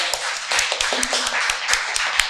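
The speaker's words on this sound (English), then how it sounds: "We can give applause to Mohammed." A short burst of light clapping from a small group, uneven taps for a couple of seconds.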